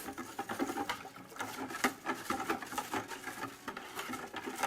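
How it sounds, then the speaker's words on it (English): Salt granules whisked in a turkey brine with peppercorns make a fast, steady gritty scraping and rattling close up, continuous for a few seconds with no talk. "You can kind of hear the salt granules are still not quite dissolved"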